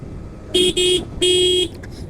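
Horn of a Yamaha FZS V2 motorcycle sounding three times outdoors, two short beeps then one longer one, a thin steady electric tone with a weak, feeble quality, close and fairly loud.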